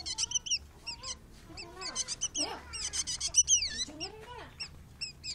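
A jengkitut bird calls in a rapid, chattering series of squeaky, rising and falling notes, close and clear, some bursts overlapping as several calls come in quick succession.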